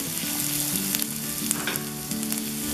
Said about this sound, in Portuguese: Nesse ponto aqui, eu boto as minhas cebolas.